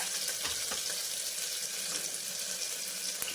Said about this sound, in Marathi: तर मी कांद्याला सॉटे करत आहे.